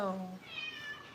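A cat gives a short, faint meow followed by a second thin, rising meow, heard close by in a quiet room.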